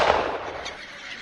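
A single gunshot fired on farmland to scare off wild animals, heard as a sharp blast already ringing at the start and fading quickly into a short echoing tail.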